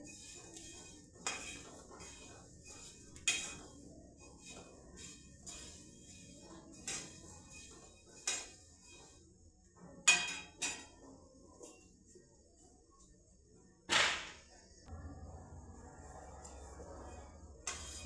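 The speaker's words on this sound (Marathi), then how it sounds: "मुरमुरे आणल्यानंतर असे भाजूनच घ्या जसे की आपण भाजून घेत आहोत" Puffed rice dry-roasted in a pan for Diwali chivda, with sparse scattered clinks and scrapes of a utensil against metal over a quiet rustling background, close but soft.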